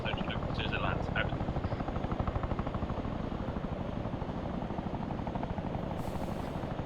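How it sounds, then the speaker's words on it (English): A Chinook twin-rotor helicopter approaches during an airborne parachute exercise, its heavy rapid rotor thudding loud and continuous throughout, with brief radio-like chatter early on. "Another Chinook coming in."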